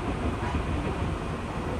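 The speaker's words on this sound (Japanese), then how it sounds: "列車は先ほど伊豆浅川駅通過しまして" Izukyu train running on rails, heard from inside as a steady rumbling roar with faint rolling rattle, continuous and fairly loud throughout the short stretch.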